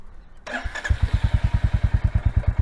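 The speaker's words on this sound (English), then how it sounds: "I'll switch on the bike" A Royal Enfield Goan Classic 350 motorcycle starts with a short starter whir, then settles into a close, loud, even thumping idle with a steady single-cylinder beat.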